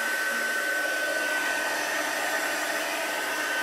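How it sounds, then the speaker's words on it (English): A heat gun blows hot air over a wet glitter decoration, giving a steady loud rushing roar with a faint high whine that runs unbroken and close throughout. "I'll keep my heat gun going"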